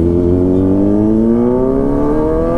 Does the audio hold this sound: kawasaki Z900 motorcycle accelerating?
yes